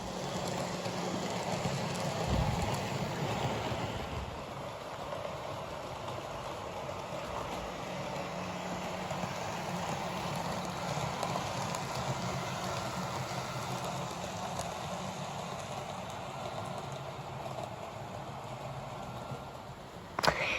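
A Bachmann 1938 stock Bakerloo line 00 gauge model train runs slowly on its track, giving a steady low rumble and whir under a broad hiss that holds evenly throughout, with a small click near the end.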